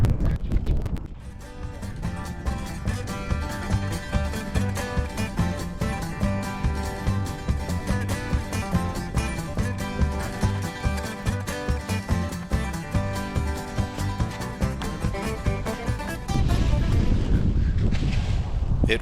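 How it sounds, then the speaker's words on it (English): Strong wind buffets the microphone in a constant, roaring rush, with a brief shift in tone near the end. "It was very windy today."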